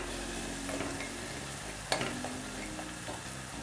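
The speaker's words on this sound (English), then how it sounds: "Stir it up." Dal cooking in a pot with coriander powder is stirred, giving a soft sizzle with faint scraping and one sharper clink near the middle, fairly quiet and with no voices.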